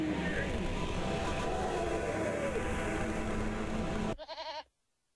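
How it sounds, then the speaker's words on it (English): Goat bleating in the video game There Is No Game, a short wavering bleat heard alone at the end after a dense burst of loud glitchy game noise. "Yay, the goat's free."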